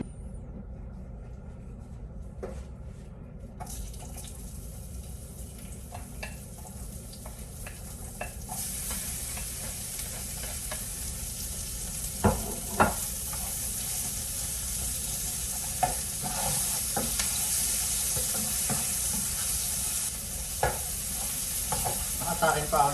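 Tilapia frying in a pan, a steady broad sizzle that swells louder partway through, with scattered pops and crackles of spattering oil over a low background rumble, no talking.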